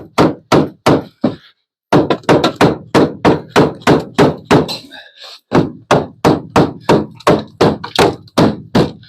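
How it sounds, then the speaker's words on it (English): A claw hammer works old material loose in a patching job, with sharp, loud, closely spaced blows in a steady rapid rhythm, broken by a brief pause early on. "The claw and the claw hammer."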